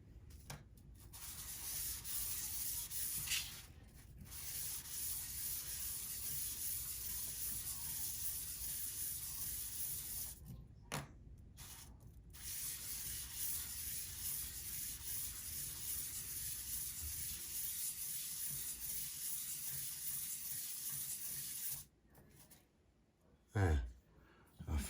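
Sanding a Losi MTXL RC truck part by hand with 1000 grit sandpaper gives a loud, steady, close-up rasping rub that holds for long stretches, broken by a few short pauses.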